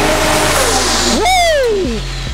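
A multi-turbo Nissan Patrol engine revs hard up to a rising howl, holds near peak, then drops away, loud and close, with no voices over it.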